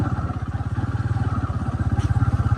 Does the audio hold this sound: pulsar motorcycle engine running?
yes